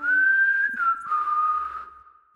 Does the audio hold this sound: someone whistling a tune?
yes